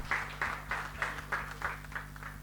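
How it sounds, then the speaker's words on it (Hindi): An audience at a stage tribute ceremony claps in a steady, even rhythm, the claps fairly faint and distant above a constant low electrical hum. "ये तालियां नहीं रुकनी चाहिए"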